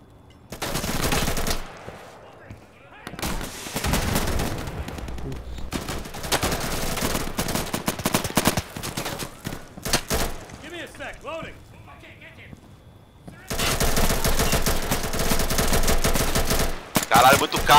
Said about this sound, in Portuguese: Cara, tem gente me atirando, acho que tem gente atrás